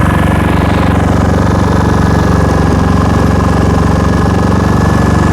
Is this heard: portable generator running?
yes